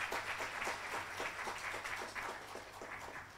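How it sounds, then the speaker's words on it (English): An indoor audience applauds, many hands clapping in a steady, fairly loud wash with a faint rhythmic pulse running through it from start to finish. "a round of applause for Harish Bhai"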